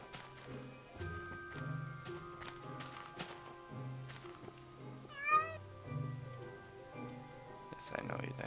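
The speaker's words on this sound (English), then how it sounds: "Hello, kitty." A cat meows once, short and rising, over soft ticking and a low background, with a person's voice speaking nearby at times.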